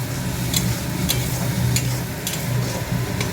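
Spice paste with turmeric fries in a scorched kadai meant for soybean and potato, making a steady, fairly loud sizzle with faint periodic ticks.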